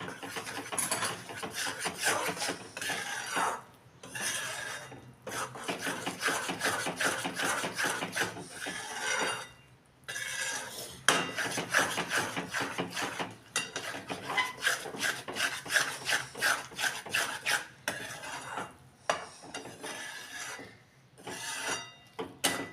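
Jaggery melting into a thick sukhdi mixture is stirred in a pan, giving a steady raspy scraping and rubbing of the spoon against the metal. The strokes come close and continuous, with brief pauses, and no voices are heard.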